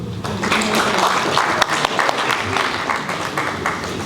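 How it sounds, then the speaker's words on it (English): Audience applause at a valedictory ceremony honouring a retiring professor, a steady dense clapping from a large indoor crowd sustained for a few seconds with a murmur of voices mixed in. "I thought that would be applauded."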